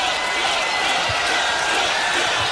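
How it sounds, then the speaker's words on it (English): Wrestling crowd in the Impact Zone at a TNA iMPACT! event, a steady dense roar of cheering and crowd noise filling the arena throughout, loud and continuous with no break. "Crowd in the impact zone,"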